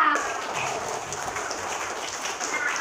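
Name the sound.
applause, audience clapping hands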